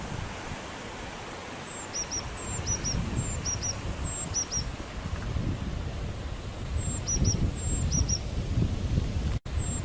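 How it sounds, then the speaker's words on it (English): Repeated high, short bird chirps in quick pairs, fairly faint, over a steady rushing outdoor background noise. "Fabulous little bit of birdsong playing in the background."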